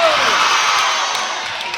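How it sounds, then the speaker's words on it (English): Crowd noise fills a high school boys' basketball gym during a game, with cheerleaders chanting among the spectators: a dense, continuous roar of voices that fades slightly toward the end. "you hear the cheerleaders saying the miss it cheer. That along with the crowd noise."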